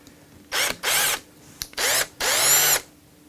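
A power drill with a 7mm brad point bit bores into guitar body wood near the truss rod, four short whining bursts with brief pauses between, close and fairly loud.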